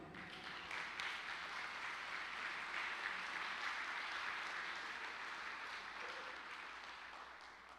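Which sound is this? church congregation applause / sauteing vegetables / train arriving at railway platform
church congregation applause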